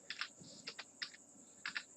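Close, quiet keystrokes on a computer keyboard tap out in quick little clusters, a few clicks at a time with brief pauses, under a faint steady hiss.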